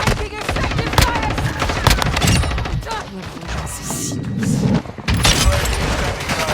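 Rapid automatic gunfire and explosive booms in Call of Duty Warzone 2.0 on the Shipment map, dense and loud throughout, with bursts, impacts and crashes and brief game radio voice lines mixed in.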